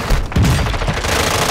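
Rapid bursts of video game gunfire in a match, dense and loud throughout with overlapping shots.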